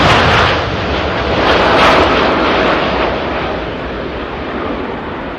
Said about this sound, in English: Loads of runway being used there by the Gulf Air 787 Dreamliner.